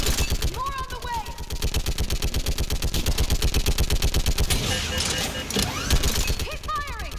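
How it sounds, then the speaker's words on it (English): Sustained automatic gunfire in Mass Effect 3 during a battle on a bridge: rapid, evenly spaced loud bursts hammering for several seconds, with shouted voices and other battle noise over it. "Keep firing!"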